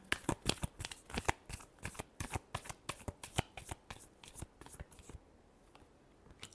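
A deck of tarot cards is shuffled by hand in a quick series of crisp riffling flicks, close and alone, ending in a brief quiet moment.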